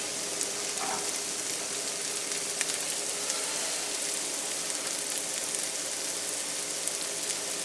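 Onions sizzling in hot oil in a frying pan for a homemade toad in the hole gravy, a steady, crackling hiss that holds evenly throughout with no voices.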